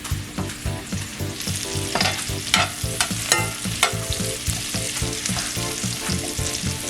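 Sweet potatoes fry over high heat in a pan with a loud, steady sizzle, broken by a continuous rhythm of stirring scrapes and clatter. No one speaks.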